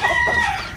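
Shamo cross roosters crow at a chicken farm in General Santos City, one brief, close, strained call with a steady tonal line over a thin farmyard background.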